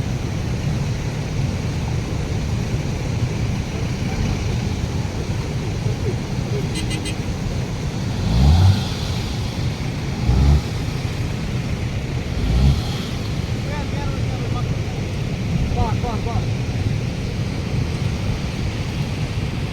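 A car driving on a road trip between Larnoo and Marwah, heard as a steady low rumble with wind buffeting and a few dull thumps along the way.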